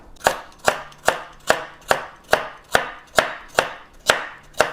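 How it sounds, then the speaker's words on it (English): A knife slices a whole carrot into thin rounds on a cutting board, eleven crisp evenly spaced chops close up, each a sharp tap at a steady rhythm with no talking. "I like to leave the carrot whole and just slice it into little circular slices"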